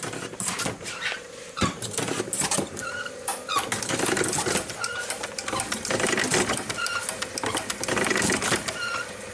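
A classic Corvette windshield washer squirts while the wipers run, producing rhythmic mechanical whirring, clicking and short spurts that repeat closely in uneven bursts, with no speech.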